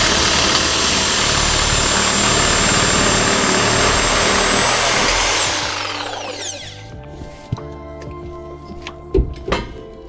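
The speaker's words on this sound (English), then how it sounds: "let's see if the Sawzall will take care of that" A Sawzall reciprocating saw cuts through a tie rod on a 2004 Honda Pilot, a loud, steady buzzing grind that winds down after about six seconds, followed by quieter metallic clinks and handling noises.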